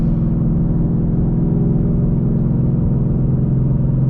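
A boosted car with a Calimer Stage 3 transmission accelerates hard, a steady loud low engine roar and rumble holding throughout as the tires are on the edge of breaking loose, with no talk.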